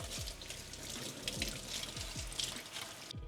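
Fish are rinsed under a running kitchen tap during scale cleaning, a quiet steady stream of water with soft splashing and low thumps, no voices.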